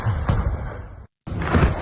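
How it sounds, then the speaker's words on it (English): Air defense explosions in Russia's Belgorod region: loud, booming blasts with a brief gap of silence between bursts, heavy low rumble throughout. "Those are big explosions, as you can hear."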